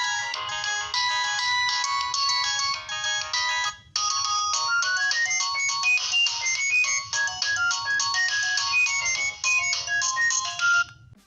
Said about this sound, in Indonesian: Untuk nada dering bawaannya ini cuma ada 2 aja loh.